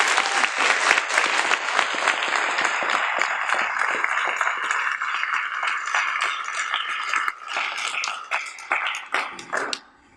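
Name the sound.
audience applause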